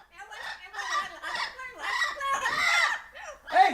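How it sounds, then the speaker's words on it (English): Several birds squawk close by in loud, harsh, repeated bursts, one call following another for a few seconds. "The birds are here! See how they are yapping?"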